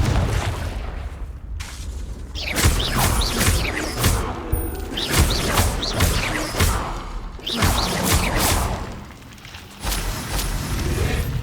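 Repeated booming spell blasts from Confringo cast in Hogwarts Legacy, a series of loud explosive bursts with whooshes and crashes, spaced irregularly throughout, no talk.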